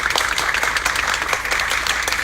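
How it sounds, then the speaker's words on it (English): A crowd applauds steadily, a dense patter of many hands clapping at moderate volume with no voices over it. "just a round of applause for them"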